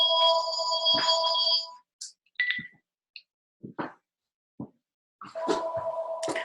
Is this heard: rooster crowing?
no